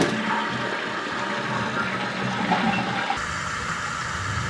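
Toilet flushing just after a new flush valve was installed, a steady loud rush of swirling water that drops abruptly in intensity near the end as the bowl drains and refills.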